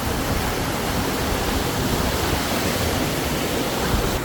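Malsa Waterfall pours in a constant, dense roar of rushing water, loud and close with no breaks, and no voices over it.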